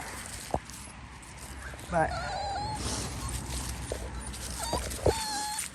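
A puppy whimpers and lets out a few short yips and barks outdoors, scattered and fairly faint, mixed with background noise and a person's voice.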